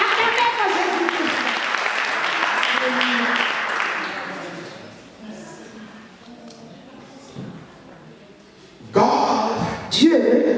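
A church congregation at a Sunday service applauds and cheers, loud sustained clapping mixed with voices that fades, then bursts up again near the end.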